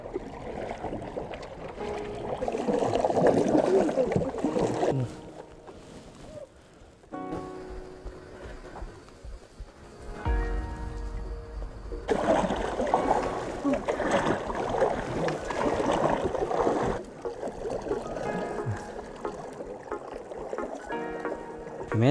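Several people paddling a small wooden raft across a lake in Chiapas, with splashing paddle strokes and water sloshing in uneven bursts, close by and mixed with outdoor ambience and occasional voices.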